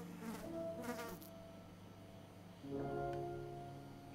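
A fly buzzes close by in two separate passes, a pair of quick whining drones early on and then a longer, steadier hum that slowly fades. There is no talking.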